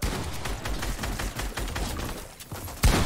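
Gunfire in a video game arena match, a dense run of rapid shots and impacts close up, ending in a sharper louder burst.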